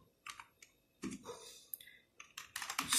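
Arduino code is being typed on a computer keyboard, producing irregular bursts of quiet clicking keystrokes with short pauses between them, close by with no voices.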